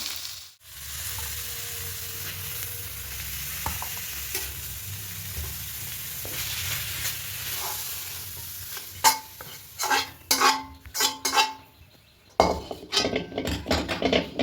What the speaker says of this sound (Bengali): এটা খুব ভালো করে একটু কষিয়ে নেব কচু শাকটা একদম হয়ে গেছে